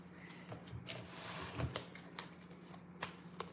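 A deck of cards is shuffled at close range in quick riffling bursts, with crisp snaps and flutters and a few separate taps, fairly quiet, with no voices.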